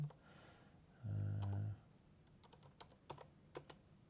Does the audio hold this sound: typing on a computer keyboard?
yes